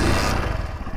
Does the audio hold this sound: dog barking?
no